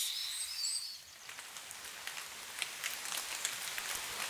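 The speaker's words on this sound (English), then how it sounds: "Over this sound, other rain sound plays over, so you hear like the drops hitting branches and leaves." Rain patters on branches and leaves in a forest in the medieval game Kingdom Come: Deliverance 2, a soft, dense hiss of drops with faint birdsong at the start.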